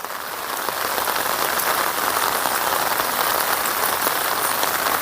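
Steady, loud rain pours down on a surface, a dense continuous hiss that swells in over the first second and then holds.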